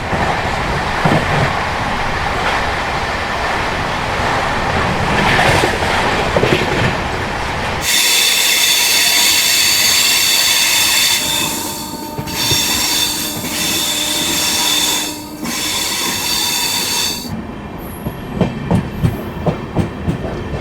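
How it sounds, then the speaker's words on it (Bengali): The Sealdah–Varanasi Amrit Bharat Express runs at around 127 km/h, a loud steady roar of wheels on rails with rhythmic clickety-clack and squealing, the tone shifting abruptly as the surroundings change, heard close from aboard. "ট্রেন এখন ছুটে চলেছে 127-128 কিলোমিটার প্রতি ঘন্টায়।"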